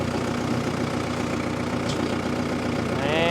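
A tractor engine idles with its PTO engaged, a steady close, low rumble running unbroken throughout, with a faint rising mechanical whine appearing near the end.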